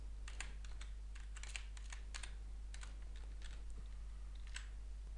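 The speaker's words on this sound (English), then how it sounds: "Then type in Kalinovac." Quick, light keystrokes clatter on a computer keyboard in short bursts over a steady low hum, close and fairly quiet.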